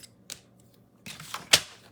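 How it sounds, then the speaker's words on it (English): Scissors trimming the edge of cardstock for a handmade card, a few small, sharp snips at close range, the last one loudest, with quiet gaps between. "Sometimes I even come back with my scissors,"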